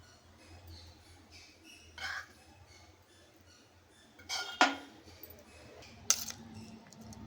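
A spoon scrapes and clinks against a bowl in a few scattered, sharp knocks while a thick paste of boiled gongura leaves is stirred for chutney, quiet otherwise.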